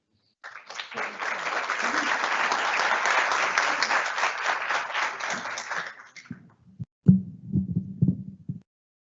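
An audience claps to welcome Silvia Lara, former Costa Rican labor minister, at a conference talk on quality employment; a full burst of steady clapping runs about five seconds, then fades as a voice speaks briefly near the microphone.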